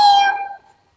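A puppet cat character gives a single short, bright meow, close and clear, fading out within a second; a human voice imitates the cat in a children's puppet show.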